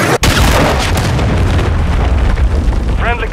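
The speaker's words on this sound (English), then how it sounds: "Friendly cruise missile deployed" A cruise missile blast in Call of Duty Modern Warfare 3, a sharp boom that opens into a loud, sustained rumbling roar through the whole stretch, with a short announcer-style voice near the end.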